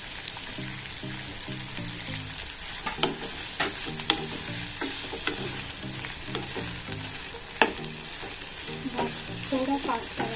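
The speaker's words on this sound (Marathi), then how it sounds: "चांगला फ्राय करून घ्या। अद्रक लसणाची पेस्ट" Ginger-garlic paste fries in hot oil for egg biryani, a steady sizzle with frequent spoon-stirring scrapes and clinks against the pan, with no talk.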